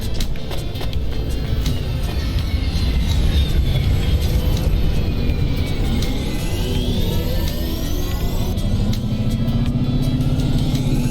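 A car driving in the video game Cloudpunk, with a steady, loud engine hum and whine that shifts pitch as it moves, running continuously without a break.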